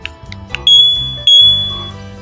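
A motorhome alarm system control board sounds, first with a few quick chirps and then two loud, piercing sustained tones close by, with no one speaking.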